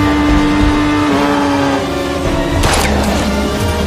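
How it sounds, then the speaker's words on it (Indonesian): A motorcycle roars along during a film chase scene, its engine a loud, continuous drone, with a sharp, rougher burst of noise partway through. "Di dalam perjalanan menggunakan motor, Stone diikuti oleh si Pirang yang ingin membunuhnya."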